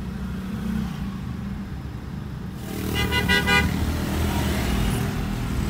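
A congested Indonesian road during the 2019 post-holiday return trip, heard from inside a Peugeot 207: a steady low traffic rumble with a short burst of car horn honks partway through.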